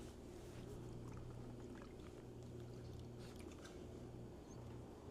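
Water is poured onto the sunroof of a Mercedes ML (W163) during a leak test, giving a soft steady splash and trickle, faint and continuous throughout.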